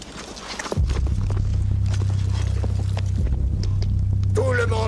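Several horses setting off at a gallop on the Saharan sand, a dense, steady drumming of hooves that starts abruptly and carries on loud and close, with brief shouting near the end.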